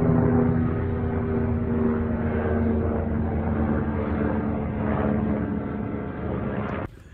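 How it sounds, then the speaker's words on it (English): A helicopter passing overhead, a loud, steady rotor and engine roar that holds throughout and cuts off abruptly at the end. "there's a helicopter flying over the top of him. It's really noisy."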